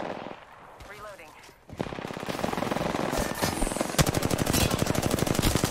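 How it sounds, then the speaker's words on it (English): Rapid automatic gunfire rattles steadily in the Apex Legends Shadowfall mode, starting after a quieter stretch and growing dense and loud with sharp repeated bursts through the second half. "Getting shot at."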